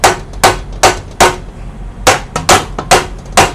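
A hammer strikes metal in sharp, evenly spaced blows, about nine hits with a brief pause midway, loud and close during an emergency repair of an 18-speed bicycle shifter.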